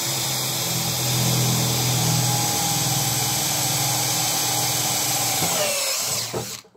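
A power drill drilling holes in wood whirs loudly and steadily for several seconds, then spins down and stops.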